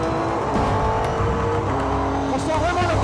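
Renault Sport RS01 race car engine at full power during a Renault Sport Trophy race, a loud, steady high-pitched roar held close throughout with slight rising pitch near the end, a voice talking over it.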